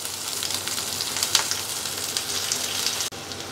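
Onion pieces fry in oil over a high flame, giving a continuous close crackling sizzle with small bright pops, steady until an abrupt brief dip near the end.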